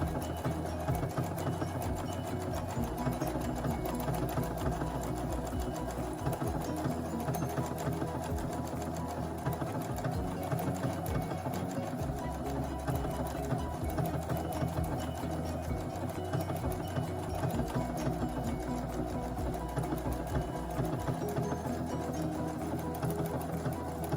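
A Viking sewing machine stitches an embroidered flower pattern on a patch with a fast, continuous mechanical whirr and chatter, close and steady, its low motor hum shifting slightly as the stitching changes.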